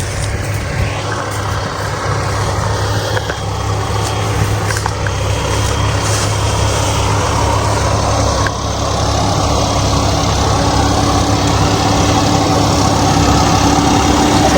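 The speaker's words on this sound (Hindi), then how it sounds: "ट्रैक्टर हमारा चल रहा है उधर सामने ही" A John Deere 5405 CRDi tractor engine runs steadily in a farm field, a loud, continuous low diesel drone with no speech over it.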